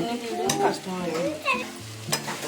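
Andhra style noodles being stirred and tossed in a hot pan, giving soft repeated scraping and sizzling bursts at an uneven rhythm, close and moderately loud.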